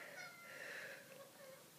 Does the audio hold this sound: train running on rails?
no